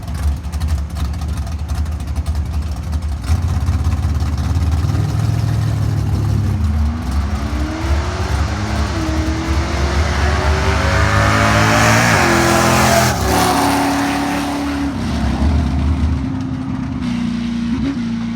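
A Ford GT500 fitted with an N2MB WOT Box makes a drag strip run, its engine roaring loud and close as the revs climb through several gear changes, then easing off.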